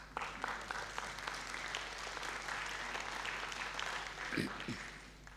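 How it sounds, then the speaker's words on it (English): Faint, thin applause from a symposium audience at a university event, scattered clapping at a distance with a low steady hum beneath and a brief voice near the end. "Applause, please."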